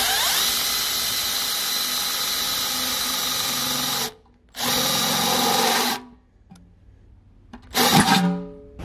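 A small power drill bit bores into a microwave oven casing with a loud, steady high-pitched whine for several seconds, cuts out briefly, resumes, then stops with a final short burst of grinding.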